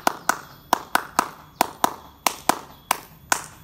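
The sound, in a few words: children doing the HW clapping chant (tepuk HW)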